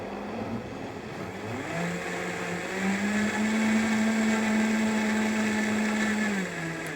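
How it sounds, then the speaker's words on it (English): A Vitamix Professional Series 200 blender whirs with warm soapy water inside, its motor rising in pitch and holding a steady loud drone for several seconds before easing slightly near the end. "I'm just going to pour in some warm, soapy water, about halfway up. Put the lid on and turn it on."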